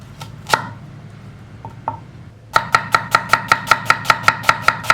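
A knife slices an onion thinly on a cutting board: a few scattered cuts, then a steady run of about a dozen crisp, evenly spaced chops, close and clear, with no talking.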